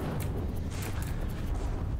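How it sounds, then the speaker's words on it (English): Big explosions boom through a From the Depths battleship battle between the Gimle and the Super Annihilator, a thick, continuous rumbling roar with overlapping blasts. "Here we can see more big explosions going on there."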